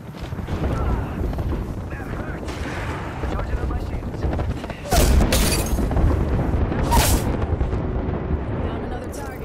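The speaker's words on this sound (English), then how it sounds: "we got an airstrike coming down" An airstrike in the video game Apex Legends hammers down as a continuous heavy rumble of blasts, with two loud, sharp explosion bursts standing out over the din.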